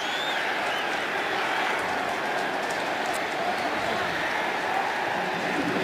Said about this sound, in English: you're hearing people in the crowd clapping